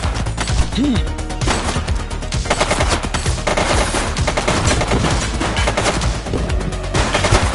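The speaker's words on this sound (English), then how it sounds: "Shots fired!" Rapid automatic gunfire in the police video game The Precinct, loud sustained bursts and overlapping shots crackling densely throughout, with shouted voices briefly cutting through the barrage.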